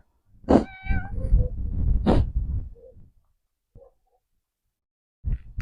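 A cat meows up close, a couple of drawn-out, wavering cries with breathy sounds between them, followed by a short pause and another brief noise.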